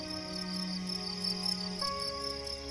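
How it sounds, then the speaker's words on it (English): Male crickets chirping on a warm summer night, steady high trilling from several insects layered together, fairly faint and continuous with no voices. "Male crickets produce their tunes by raising their wings to a 45-degree angle"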